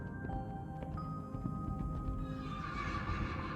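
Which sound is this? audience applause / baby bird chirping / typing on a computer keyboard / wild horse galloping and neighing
wild horse galloping and neighing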